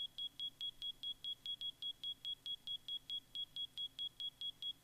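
A smoke detector alarm in Minecraft beeps in a fast, even series of sharp high-pitched chirps, about three per second, clear against a quiet background.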